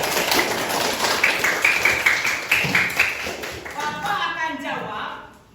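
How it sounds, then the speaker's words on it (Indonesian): Students clapping in an Islamic studies classroom lesson, a steady patter of applause running under continuous loud talk, fading near the end. "Tepuk tangan dulu dong"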